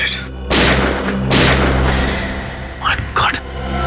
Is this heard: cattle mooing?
no